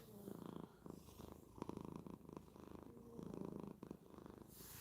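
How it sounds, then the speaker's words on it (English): A cat purring up close, a steady rumbling purr in rhythmic pulses with each breath, continuous through the clip and alone without talk. "That purr."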